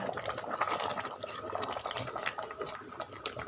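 Fish sauce poured into a pot of bamboo shoot curry makes a soft, steady liquid trickle and splash, close and fairly quiet, with faint bubbling beneath.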